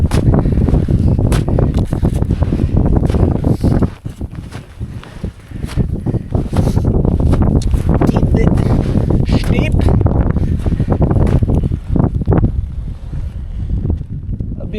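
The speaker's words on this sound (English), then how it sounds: "It's cold. It's windy." Cold gusting wind buffeting the microphone on a snowy mountain summit, a loud, constant roar with rough bursts, under a hiker talking throughout.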